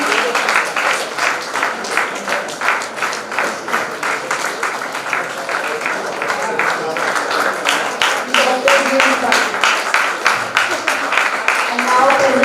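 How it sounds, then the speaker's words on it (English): Conference audience giving a round of applause during a memento presentation, sustained steady clapping from many hands lasting over ten seconds, growing slightly fuller toward the end, with some talk mixed in. "A big round of applause, ladies and gentlemen."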